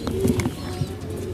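A brief, low coo from a racing pigeon bred by its keeper, heard close and soft over a steady low background hum.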